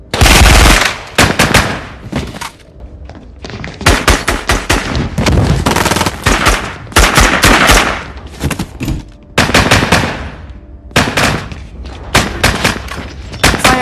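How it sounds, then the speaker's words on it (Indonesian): Dense bursts of automatic gunfire from an action film shootout, loud and rapid, with repeated volleys and brief gaps throughout, no talking over it. "Sayangnya di sini leher Miller tertembak yang membuatnya langsung tidak berdaya"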